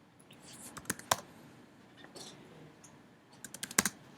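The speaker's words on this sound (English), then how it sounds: "Okay, let me manually type it." Someone types on a computer keyboard in a quiet room, a few scattered clicks followed by a short quick flurry of close, faint keystrokes.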